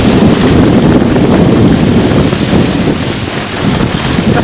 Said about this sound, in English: Got some decent wind here right now.